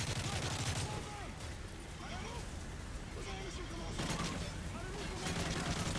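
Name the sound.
AK rifle gunfire in video game Call of Duty: Modern Warfare 3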